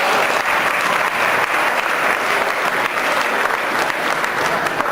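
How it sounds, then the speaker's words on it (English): Loud, steady applause from a crowd at an appreciation ceremony, sustained dense clapping that fills the whole stretch without letting up. "Give her a great round of applause."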